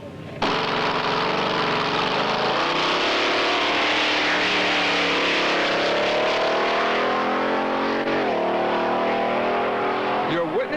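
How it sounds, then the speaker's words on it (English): The Budweiser Snow King dragster snowmobile on skis making a 188 mph speed trial run, its engine bursting into a loud continuous high-pitched roar that rises in pitch as it accelerates away, with a voice talking over it. "This is the Budweiser Snow King, a snowmobile that gives new meaning to the word speed."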